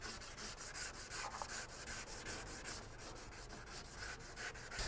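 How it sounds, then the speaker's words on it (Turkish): Wet sanding on a cracked plastic rear bumper at a car body repair shop, a steady close scraping rub with rhythmic back-and-forth strokes running throughout, no talk. "Su zımparası uygulaması yapılıyor bu şekilde."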